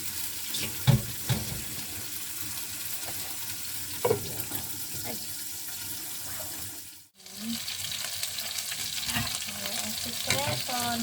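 Chicken wings fry over low heat in a covered pan, giving a steady close sizzle with occasional stirring clinks and a brief dip when the lid shifts.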